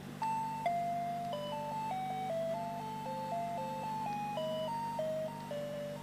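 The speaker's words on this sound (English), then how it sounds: "Depending on the model, a doorbell can have from 1 to 12 different tunes." A cordless doorbell chimes through a melodic tune, a sequence of clean, bell-like tones stepping up and down in a steady rhythm, faint and alone over a low constant hum.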